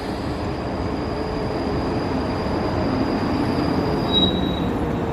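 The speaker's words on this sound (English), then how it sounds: "in the distance I can now see the train to Milngavie" A class 334 electric train bound for Milngavie approaches from the distance with a steady rolling rumble and a thin high wheel squeal that sharpens briefly near the end. No one speaks.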